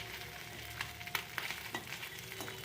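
Pieces of fish head fry in oil in a pan, giving a soft continuous sizzle punctuated by sharper crackles and pops, heard close up and without any talk.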